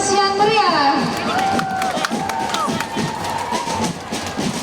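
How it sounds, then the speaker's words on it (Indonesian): A crowd at a school drum band and marching band parade in North Toraja cheers and applauds with steady roaring noise, while a voice talks loudly over it. "Kita berikan aplaus yang meriah."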